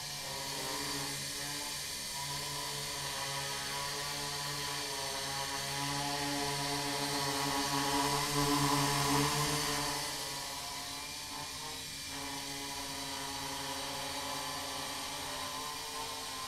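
A Blade 180 QX quadcopter hovering under throttle, its rotors giving a steady, faint buzzing whine that swells slightly midway and then settles, with no talk.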